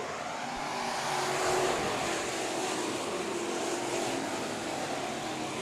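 IMCA Sport Mod race cars roar off at the start of a race at Bakersfield Speedway, a dense, steady engine drone from a full field that swells briefly and holds at a loud level.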